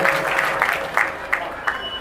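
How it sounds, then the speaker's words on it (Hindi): An audience at a religious gathering claps to welcome a guest, a moderate crowd patter with a few sharper individual claps standing out. "जोरदार तालियों से स्वागत करने इन्होंने प्रयास किया है।"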